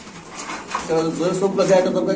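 Racing pigeons cooing at a pigeon seller's, a low rolling coo rising in the second half, heard close under background voices and chatter.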